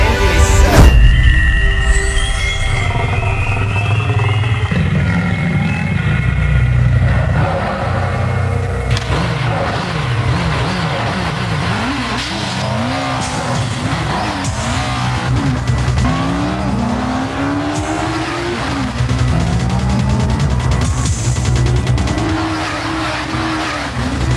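A racing motorcycle with a 20-valve engine screams hard, its revs climbing and dropping as it brakes and accelerates, loud and close for a long stretch with gear-change shifts in pitch.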